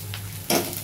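Spoon stirring paneer korma in a pan, a brief hiss and scrape under a steady low hum, closely miked and with no speech.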